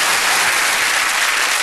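Studio audience applause on a television panel show, dense and steady throughout the short stretch with no talk over it.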